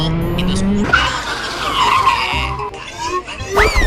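A go-kart races at speed on a track, with tires screeching and skidding loudly through a turn over a droning engine, then a final sharp squeal as it slides.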